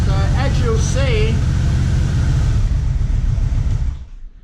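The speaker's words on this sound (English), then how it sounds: "when I switch the headlight on and rev the engine up, that voltage is not increasing." A Yamaha Vmax motorcycle engine runs with a steady, heavy low rumble, briefly under a voice at the start, before cutting off near the end.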